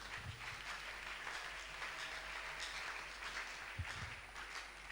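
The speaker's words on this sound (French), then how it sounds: "Est-ce que quelqu'un peut juste applaudir pour le Seigneur?" Church congregation at an evangelical service applauding for the Lord, a steady dense wash of clapping held at an even level throughout, with a few low thumps near the end.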